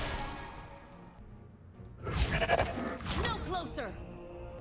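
In the Legends of Runeterra video game, a goat card lets out a short, mid-loud bleat over swooshing effect sounds, with game audio and a brief voice around it.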